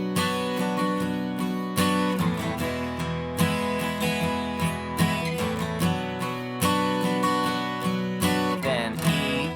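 Acoustic guitar strumming a steady pattern from a song, repeated down-and-up strokes with accented chord changes every couple of seconds, close and full without any voices.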